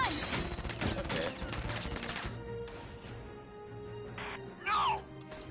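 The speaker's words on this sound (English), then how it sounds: "Shots fired! Find some cover!" Gunfire in the video game Valkyria Chronicles 4 rattles in a dense burst of rapid shots up front, then drops to sparse sounds and a brief voiced exclamation near the end.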